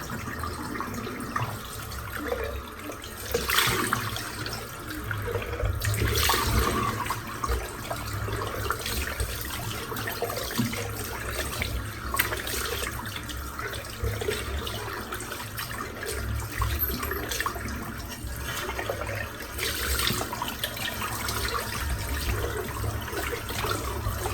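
A razor rinsed under a running tap, with a steady rush of water into the sink and occasional louder splashes as the blade passes through the stream, heard close and continuous.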